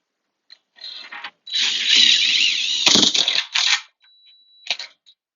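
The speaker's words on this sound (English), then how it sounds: "Then take your 4-inch framing screw and run it through the pre-drilled holes." A 4-inch framing screw is driven through pre-drilled holes by a power driver, giving a loud, sustained whirring, grinding burst of about three seconds with shorter bursts before and after it, heard alone.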